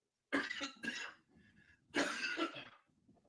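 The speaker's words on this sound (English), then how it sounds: "Just let me cough." One person coughs close to the mic, two harsh throat-clearing bursts separated by a short pause, with a faint murmur between them.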